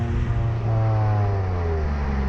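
Exhaust of a Hyundai i20 N Line under acceleration while driving, a steady near engine drone with rising harmonics and no talk.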